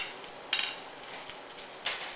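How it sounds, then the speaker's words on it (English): Soft steady sizzling from vegetables, mushrooms and meat strips frying in a pan, with a couple of brief scraping clinks from stirring. "time for some simmer frying"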